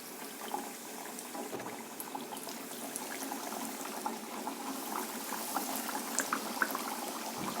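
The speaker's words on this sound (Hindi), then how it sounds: "ऑयल हमारा गर्म है। अब हम इसमें इसको आराम से डालते जाएंगे।" Chicken donuts fry in hot oil, giving a continuous busy sizzle with crackling pops and bubbling, close and fairly loud, growing slightly livelier toward the end, with no voices.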